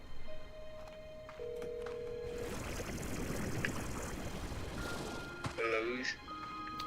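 A phone call rings out in steady repeated tones over continuous background noise, heard amid a game scene, with a short burst of other sounds near the end.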